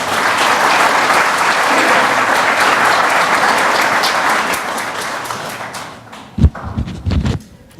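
An audience at a technology center grand opening applauds, sustained clapping that fades out, followed by a few scattered taps and knocks near the end.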